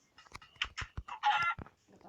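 Short series of clucking chicken calls from a Minecraft video game, several brief bursts with one longer squawk, fairly close and distinct with no talk over them.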